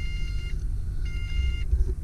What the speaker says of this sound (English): I'm not sure why it has this constant random beep